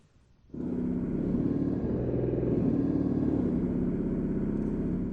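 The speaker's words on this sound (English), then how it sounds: "That's our really fun 32-foot contrabombard." Deep growling low note from a 32-foot contrabombard reed pipe on a pipe organ, starting abruptly after a brief quiet moment and sustaining a thick buzzing rumble to the end, with slight shifts in the upper tones.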